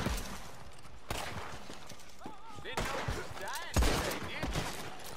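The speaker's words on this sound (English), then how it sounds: "I get shot from everywhere though." Gunfire in Red Dead Online, scattered sharp shots and bursts at moderate volume mixed with horse hooves and game sounds, while a voice talks over it.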